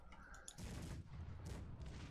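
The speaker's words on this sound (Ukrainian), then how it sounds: "Все, почали стріляти гармати" Heavy booming gunfire rolls continuously, thick and low, like cannons blasting in steady overlapping volleys; cannons firing in the strategy video game Cossacks 3.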